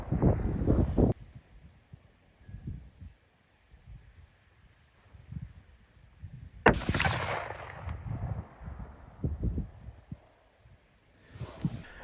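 A Taurus Expedition .308 bolt-action rifle fires two loud, sharp outdoor shots about five seconds apart, each with a booming report and a rolling echo that decays over several seconds, with wind noise buffeting the microphone.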